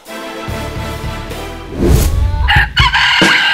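A Dong Tao rooster crows loudly and close, its long call rising and then breaking off, with some clucking and background noise around it.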